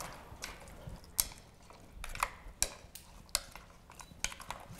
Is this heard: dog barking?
no